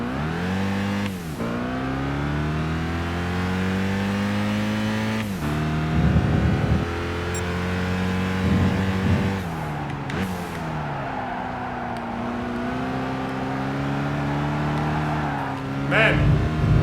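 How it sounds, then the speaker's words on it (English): Race car engine in Gran Turismo 5 revs up and down through repeated gear changes, rising pitch sweeps broken by shifts, loud and close throughout a championship race. "the car is actually pretty fun to drive"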